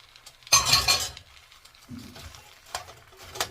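Eggs are stirred and chopped into pork fried rice in a pan: one loud scraping, clattering burst of utensil against pan, then quieter scrapes and a few sharp clinks, with no talking.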